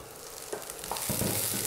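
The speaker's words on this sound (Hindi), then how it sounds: "मटर को हमको ज़्यादा नहीं भूनना रहता है, सिर्फ 1 मिनट के लिए इसको तेल में इस तरह से भून लेते हैं।" Peas fry in hot oil in a kadhai, a steady close sizzle with a few soft stirring knocks, growing a little louder toward the end.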